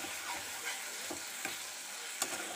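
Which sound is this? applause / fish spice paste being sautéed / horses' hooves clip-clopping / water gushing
fish spice paste being sautéed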